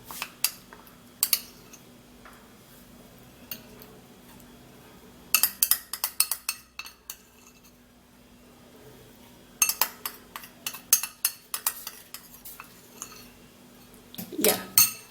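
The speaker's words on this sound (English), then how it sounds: "So we're going to be scraping that into this mix." Settled starch scraped off a plate into a mix with a utensil, producing clusters of sharp clinks and scrapes in several bursts separated by quiet gaps.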